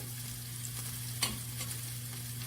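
Sausages frying in a pan, a steady faint sizzle under a constant low hum, with one brief knock as a sausage is turned.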